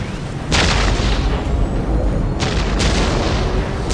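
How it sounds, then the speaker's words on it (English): Ork artillery fire in the Warhammer 40K Dawn of War video game: two heavy booming blasts, one near the start and another later, over a constant loud rumbling battle din with no talking. "We will silence that Orc artillery."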